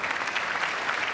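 Crowd applause during a State of the Union address, a steady dense wash of clapping throughout with no pauses.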